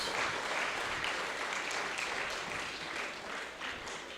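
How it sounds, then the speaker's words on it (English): An audience applauds at a public address by a Prime Minister, a steady, sustained clapping that sounds fairly distant and soft, with no speech. "Could you help me give them again a round of applause?"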